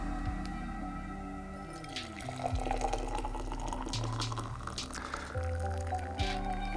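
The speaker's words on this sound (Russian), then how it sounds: "наливаете сюда кипяток" Boiling water poured over loose-leaf tea into a steel mesh infuser, a steady close trickle and gurgle with shifting pitch as the vessel fills, continuous for several seconds.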